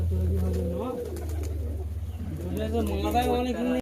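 Giribaz pigeons cooing in a packed loft, soft low rolling coos repeating steadily throughout, with someone talking over them.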